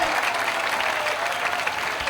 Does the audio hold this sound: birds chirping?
no